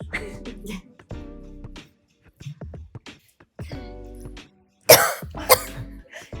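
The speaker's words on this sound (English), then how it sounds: "Coughing." Several harsh coughs, including two loud sharp bursts near the end, with short vocal sounds and pauses between them.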